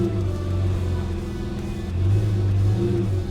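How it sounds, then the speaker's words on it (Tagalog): A cold car engine at an auto salon event revs moderately toward about 5,000 rpm, a steady low rumble that swells in the second half without voices over it. "rev na natin hanggang mga 5K."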